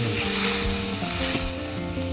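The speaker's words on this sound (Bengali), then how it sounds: "ঝোল ফুটে উঠেছে" Curry broth bubbling in a pan, a continuous close hissing, seething sound with faint bubbling textures, steady and unbroken.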